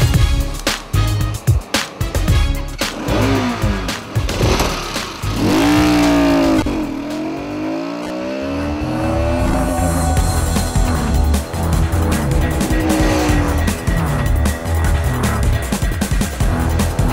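Bajaj Pulsar motorcycles, including the RS200, AS200 and AS150, accelerate and rev hard on a test drive, engine pitch sweeping up and down through gear changes, loud and near with no talking.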